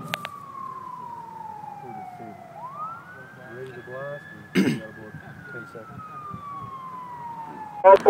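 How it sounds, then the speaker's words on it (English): A siren truck at a mountain mine pit wails before a blast. Its tone glides slowly down, sweeps back up and falls again at a moderate distance, with a few brief knocks mixed in. "your siren truck has reached the block"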